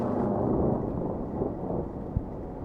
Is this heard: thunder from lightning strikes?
yes